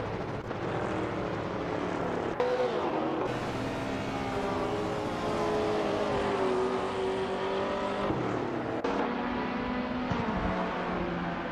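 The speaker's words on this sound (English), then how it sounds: "Meanwhile, Bot Keystherx has made a move, advancing to 12th place as others seem to falter." Race cars roar steadily in a racing video game, their engine tones rising and falling in pitch as they pass, with a near-constant loud drone and a few abrupt cuts.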